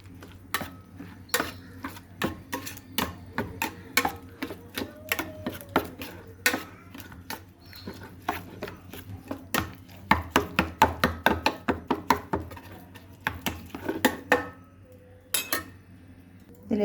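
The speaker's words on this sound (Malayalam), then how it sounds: "എന്നിട്ട് കുറച്ചുകൂടി വെള്ളം ഒഴിച്ച് നല്ലവണ്ണം ഒന്ന് മിക്സ് ചെയ്യാം" Wet puttu flour is stirred in a bowl with a spoon, giving irregular clicks and scrapes. The taps quicken into a dense run in the middle, then thin out with short pauses.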